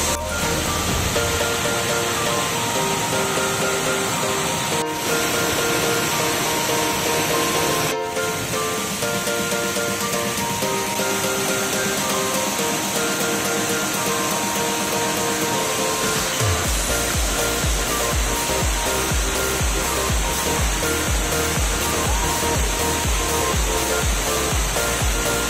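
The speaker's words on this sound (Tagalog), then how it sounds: "Yung nakikita nyo sa likod ko, yan yung tinatawag na Balon-Balon Falls." Balon-Balon Falls in Cavinti, Laguna pours in a steady, full roar of rushing water that holds from start to finish, with a deeper rumble joining in near the end.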